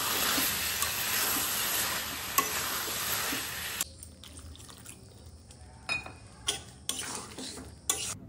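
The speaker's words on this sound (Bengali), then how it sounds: "জল দেওয়ার পর জলটা শুকিয়ে গেলে ওতে দিয়ে দিলাম ভেজে রাখা আলুগুলো।" Fried potatoes tumble into a hot wok, setting off a loud, steady hiss of sizzling that cuts off abruptly, followed by intermittent scraping and clinking of a utensil against the pan.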